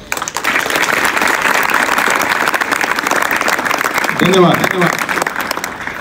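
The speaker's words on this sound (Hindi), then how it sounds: "उनके लिए बहुत जोर से तालियां" A gathering of NCC cadets claps loudly for army members, a strong, continuous burst of many hands that swells at the start and holds, with a brief spoken voice near the end.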